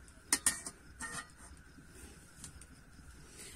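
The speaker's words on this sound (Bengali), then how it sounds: "এরকম একটা স্ট্যান্ড কিন্তু আমি কড়ার মধ্যে দিয়ে দেবো।" Metal steaming stand set down into a kadai wok, giving two sharp metallic clinks followed by a softer clatter, then quiet kitchen background.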